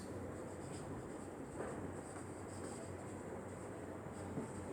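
Pen or chalk writing out an equation during a physics lesson on capacitance, faint scratchy strokes over a low steady background hum.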